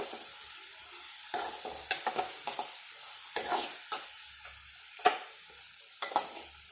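Potato and brinjal pieces fry in a pan with a soft sizzle, broken by repeated sharp scrapes and clicks of a utensil stirring and turning them.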